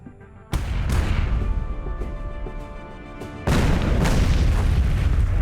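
Artillery fires in the video game Miner's Mettle: two heavy, deep booms, one early and one later, each followed by a long rumbling tail at loud, close volume.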